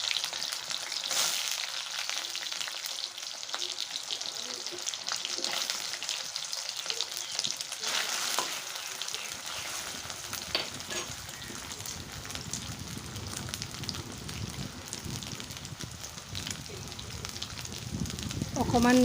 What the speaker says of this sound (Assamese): এতিয়া মই সয়াবিনখিনি ভালদৰে ৰঙচুৱাকৈ ভাজি লম